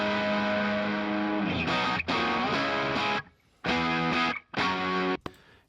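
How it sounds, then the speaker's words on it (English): Crunchy, mildly distorted electric guitar through a single coil pickup plays rhythmic chords, sustained then chopped into short stabs with gaps of silence between. "It's just a kind of crunchy rhythm guitar tone through a single coil pickup."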